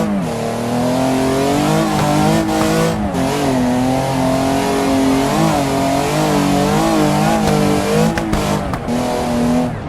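A modded car in BeamNG.drive with a tuned exhaust revs and accelerates loudly for the whole clip, the engine note rising and falling through gear changes with a raspy, buzzing exhaust tone and no talking.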